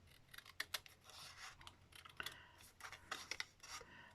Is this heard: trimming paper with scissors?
yes